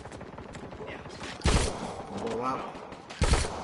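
Gunfire in a zombie shooting video game: two loud, sharp bursts of shots a couple of seconds apart. A player talks and exclaims between them.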